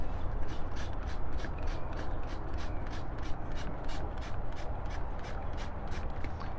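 A stronger spray setting hisses steadily as an engine bay is washed on a Viper V10-powered Ram, with rapid, regular scrubbing or sputtering pulses over a broad, continuous wash sound, close and unbroken.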